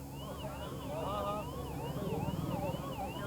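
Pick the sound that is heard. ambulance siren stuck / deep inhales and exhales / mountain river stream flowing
ambulance siren stuck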